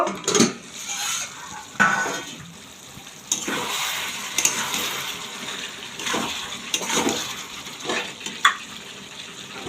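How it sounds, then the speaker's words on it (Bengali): A metal lid clatters off a pot of chicken curry (chicken kosha) cooking on the stove, with scattered clinks and scrapes of cookware over a soft sizzling, frying background. "চাপাটা খুলে দেখব।"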